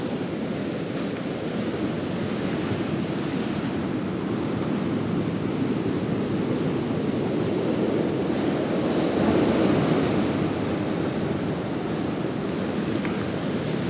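Ocean waves wash steadily onto a beach beside a pier, a continuous loud surf roar with slow swells and rushes, no voices.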